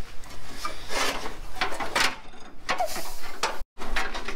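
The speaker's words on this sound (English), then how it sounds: "It's just the ratchet." A ratchet wrench clicks in quick, uneven bursts during work on an off-road truck, close and fairly loud, with rubbing and scraping of tools and parts between the runs of clicks and a brief pause near the end.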